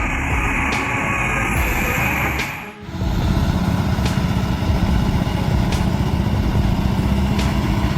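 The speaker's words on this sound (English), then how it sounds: "The old tractor trailer was lumbering into one of the sharpest turns on the pass" An old tractor trailer with a worn-out engine lumbers into a sharp turn on a mountain pass, a loud, steady low engine drone that briefly dips and pulses before returning to a heavy, continuous rumble.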